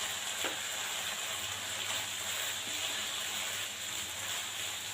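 Fried vegetables and chicken being stirred together in a pan for chicken macaroni, a steady close sizzle with faint scraping of the mix, no voices.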